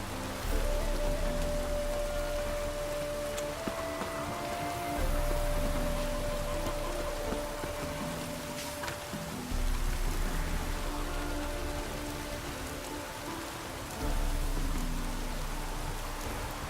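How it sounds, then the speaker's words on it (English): Steady rain pours down in a continuous hiss in the video game The Witcher 3: Wild Hunt, with a low ambient drone and faint tones running underneath. "Rain was coming."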